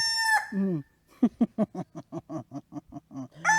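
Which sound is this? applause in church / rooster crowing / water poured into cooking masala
rooster crowing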